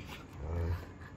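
A Labrador dog vocalizes close by with a low, rumbling growl-like sound that swells in the middle and then eases, with no talking.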